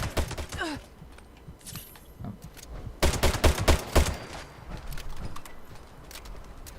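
Rapid pistol shots from a Furious Crusader Pistol in Fallout 76, sharp cracks in quick bursts with a pause, then another dense volley, loud and close.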